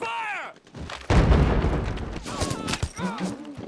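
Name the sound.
gunfire in Band of Brothers TV episode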